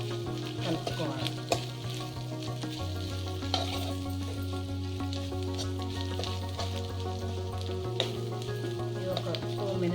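Ivy gourd curry being stirred with salt and chili powder in a hot pan, a steady frying sizzle under repeated scraping strokes of the spoon, close and fairly loud with music playing along.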